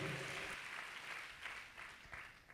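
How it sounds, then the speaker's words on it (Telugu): Church congregation clapping hands in praise during a Christian worship service, a dense, steady wash of applause from many people filling the room, continuous and fairly loud throughout. "చప్పట్లు కొట్టి సంతోషంగా ప్రభువును మహింపరుద్దాం."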